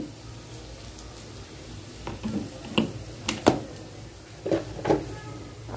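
Spices stirred into a sizzling pan in a home kitchen as chili and turmeric go in, with soft frying hiss and a few sharp clinks and scrapes of a spoon against the pot, fairly quiet and close.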